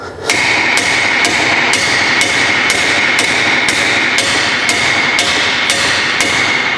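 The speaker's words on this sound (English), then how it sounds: "hit it with the hammer as hard as you can" Loud, sharp metallic hammer blows strike a rusted brake disc screw on a Mini at a steady pace, about a dozen hits in a row, close by with no talking.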